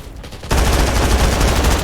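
An M249 machine gun firing in the video game Undawn: after half a second of quiet, a loud, sustained automatic burst of rapid shots sets in and runs to the end.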